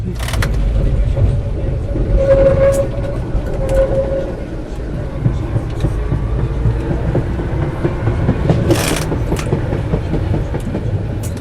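Interior of a Konstal type 105 tram on line 32S in the Tricity area, with a steady low rumble of rolling wheels and motor, occasional rattles and a brief squeal, continuous throughout.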